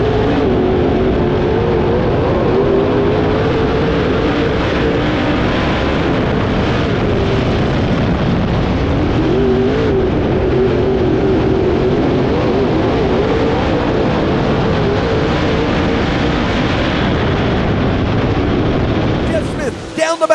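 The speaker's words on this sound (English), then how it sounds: "Here's the Gorsuch green flag, and Jeff Smith just pulls away" Late model dirt race cars roar around Lancaster Motor Speedway under a green flag, a dense sustained engine drone with a rising and falling pitch, loud and continuous for about twenty seconds.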